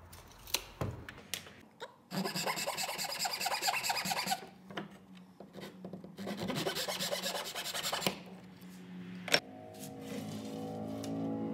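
A hand saw rasps back and forth through a wooden dowel in two long bursts of rhythmic strokes, close and crisp, separated by quiet pauses with scattered clicks and taps of handling.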